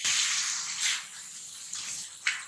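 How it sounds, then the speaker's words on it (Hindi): Water is poured into a pan of pepper chicken with lemon juice and black pepper, a bright splashing rush in short uneven bursts, close and fairly loud, with no talking. "और थोड़ा सा मैं इसके अंदर पानी डालूंगी"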